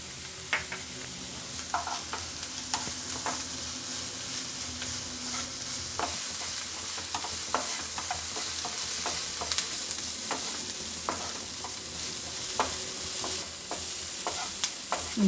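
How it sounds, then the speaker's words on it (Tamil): Onion and a green chili sautéing in a pan with a little salt for an egg omelette, giving a steady soft sizzle with scattered clicks and scrapes of stirring throughout, close and moderately quiet, no talking. "வெங்காயம், ஒரு பச்சை மிளகாய் ரெண்டையும் போட்டு லேசாக வதக்கி எடுத்துக்கலாங்க."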